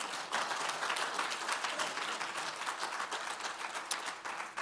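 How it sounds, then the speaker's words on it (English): Church congregation giving a round of applause during a sermon, brisk clapping from many hands that swells and then slowly tapers toward the end. "Give the Lord a round of applause for it."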